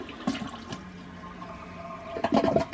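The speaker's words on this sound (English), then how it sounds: "so flush number one" A toilet flushes: steady rushing water that swells into a louder, gurgling surge near the end, heard close up.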